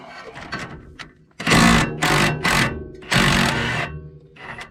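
Ridgid power tool, likely an impact wrench, working a 17mm strut fork bolt on a 1997-2001 Honda CR-V: loud, close rattling motor bursts in three long pulses with brief pauses, preceded by softer mechanical noise.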